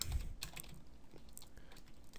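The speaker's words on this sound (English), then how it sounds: "I'm using a French keyboard" Typing on a French-layout computer keyboard, with soft, fairly quiet key clicks in an uneven run over a low background hum and no talking.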